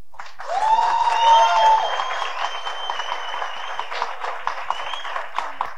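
An audience applauds steadily with dense clapping, and a long whistle rises above the crowd near the start before the clapping continues alone.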